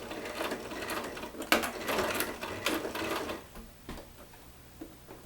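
Sewing machine stitching a fabric Christmas stocking, a dense mechanical whir of rapid needle strokes running steadily for about three seconds, then stopping and leaving soft handling clicks and quiet taps close by, with no talk.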